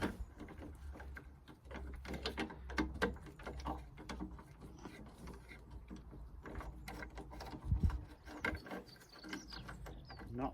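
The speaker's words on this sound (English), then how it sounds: "we're just looking at a couple of 10 mils, it looks like, to undo these bolts" A ratchet works 10 mm bolts loose on the horns of a Mercedes ML55 AMG, a faint, uneven series of clicking turns and metallic rattles over several seconds, close but quiet.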